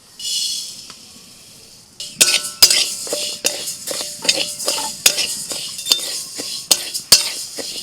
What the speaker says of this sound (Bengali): মুগের ডাল শুকনো কড়াইতে ভেজে নিচ্ছি